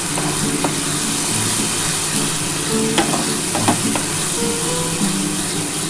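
Spice paste for a spicy Bombay duck (loitta fish) curry sizzles steadily in a pan, with a continuous close fry hiss and a few scattered clinks and scrapes of stirring throughout.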